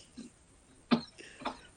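A person coughs close by, a short soft throat sound followed by two stronger, harsh coughs, with quiet pauses between them and no talking.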